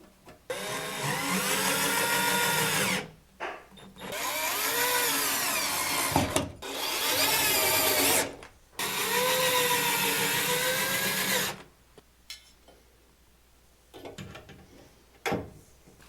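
Power drill whirring in long bursts as it drives screws into wood trim for built-in shelves in a basement bathroom makeover, three sustained runs of about three seconds each with short pauses, loud and close, followed by quieter handling clatter.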